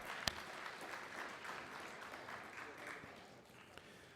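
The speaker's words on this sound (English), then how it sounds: "That's an applause." Audience applause at the Jerusalem Post NY Conference: a faint, steady wash of clapping from a distant crowd that holds for several seconds and slowly tapers.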